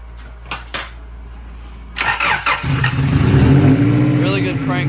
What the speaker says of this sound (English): Really good crank, first of all.